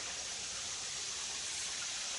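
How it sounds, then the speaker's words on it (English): Steady broadband rush of a garden waterfall on the grounds of a residential property with holly hedges and plantings, a continuous even wash of falling water with no voices. "You can probably hear the waterfall, which I love"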